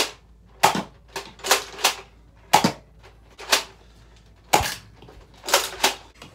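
A Nerf Cycloneshock Mega blaster fires foam darts in about nine sharp, close snapping shots spaced irregularly across a quiet room.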